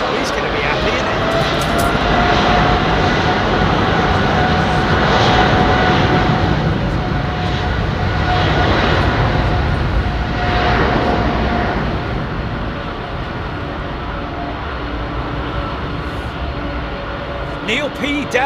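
A de Havilland 106 Comet 4, powered by four Rolls-Royce Avon 524 jet engines, roars at London Heathrow Airport. The engine noise is a loud, steady rumble and hiss that swells and slowly fades over nearly twenty seconds.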